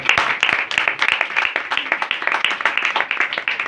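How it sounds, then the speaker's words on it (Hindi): A small group at a church gathering claps rapidly and distinctly, with individual hand claps audible in quick irregular succession at close range. "सैमुअल साहब और एल्डर साहब के लिए एक बार जोरदार तालियां।"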